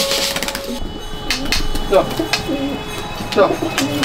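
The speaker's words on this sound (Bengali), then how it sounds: "পায়রা সব এবার ছাদে নামিয়ে নিচ্ছে।" Racing pigeons from a competition loft in Baruipur come down onto a rooftop, with soft coos and brief wing flutters mixed into outdoor background noise and nearby talk.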